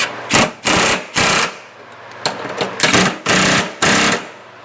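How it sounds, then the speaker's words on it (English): Impact wrench tightening the running board nuts on a Chevy Silverado, firing in about seven loud, close bursts of rapid hammering, each under a second long, with short pauses between. "I'm going to get it most of the way with the impact"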